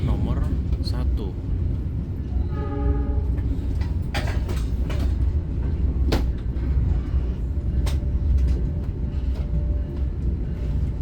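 Rumbling interior noise of the Imperial Jogja luxury passenger train pulling into platform 1 at Gambir station, with steady low hum, brief squeals and clunks, and people talking over it.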